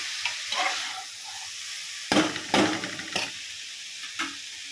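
Ivy gourd fries in a hot oil tempering, a soft continuous sizzle broken by a few sharp, louder bursts of stirring and spattering near the middle and end.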